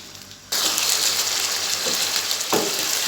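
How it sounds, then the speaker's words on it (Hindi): Chicken frying in hot oil, a loud, close hiss and sizzle that bursts in suddenly and carries on steadily, with a brief stirring clatter near the end and no talking. "अब हम इसे अच्छे तरह से मिक्स कर लेंगे और गोल्डन ब्राउन होने तक इसे फ्राई करेंगे"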